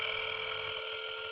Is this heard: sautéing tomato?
no